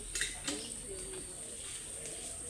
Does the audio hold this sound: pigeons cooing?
yes